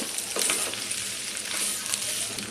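Spiced potato filling for batata vada is sautéed in a pan, making a soft, steady sizzle with a few light stirring scrapes, heard alone at low volume.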